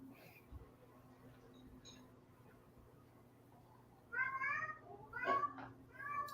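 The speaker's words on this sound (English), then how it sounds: "Now I got cats meowing at me." Cats meow a few times, faint and somewhat distant, over a low droning background hum with no speech.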